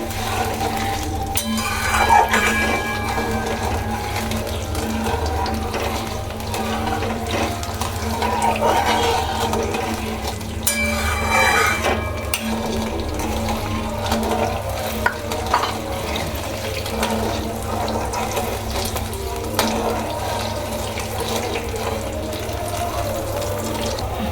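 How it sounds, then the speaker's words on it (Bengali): Sugar stirred into hot water in a pot for a raw mango chutney, a continuous watery swish with faint scraping and clinks, steady and close under a low background hum, no voices. "এবার চিনি দিয়ে ভালো করে নাড়তে হবে, চিনিগুলোকে পুরো গলিয়ে নিতে হবে।"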